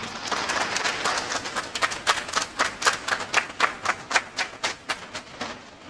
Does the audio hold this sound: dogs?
no